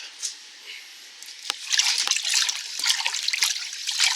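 A salt-laden liquid hide-tanning mixture for a deer hide gets stirred, giving close sloshing and trickling swirls with small knocks, faint at first and then busier and louder.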